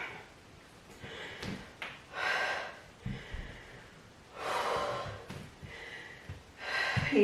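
Heavy, rhythmic breathing between bursts of a HIIT workout: loud, breathy exhales and sharp inhales repeating every second or two, close up, with no talking.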